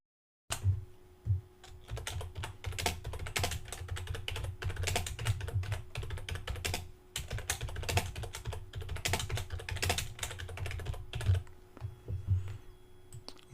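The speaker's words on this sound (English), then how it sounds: "I'm going to type in my text." Steady typing on a computer keyboard, a quiet close run of soft key clicks that continues for over ten seconds with only brief pauses, no voices.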